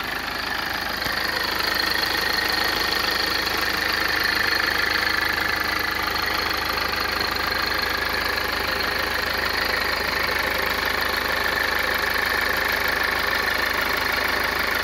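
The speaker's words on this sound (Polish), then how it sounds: "ale silnik chodzi idealnie" A Toyota Avensis diesel engine idles steadily, a close, even mechanical clatter and hum with a slight knocking texture, continuous and unchanging for the whole stretch.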